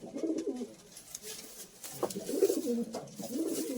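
Madras pigeons coo close by in repeated low, rolling phrases, with short pauses between bursts and no talking.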